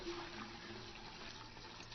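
Water running steadily from a tap to fill a bath, a soft continuous wash of sound heard alone at low level.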